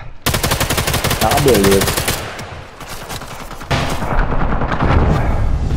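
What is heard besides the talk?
gunfire in Sniper Elite 5 video game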